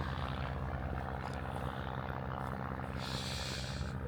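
A vintage propeller airplane drones overhead just after takeoff at a small-car club and vintage aircraft show, its engine a continuous loud rumble that stays steady throughout.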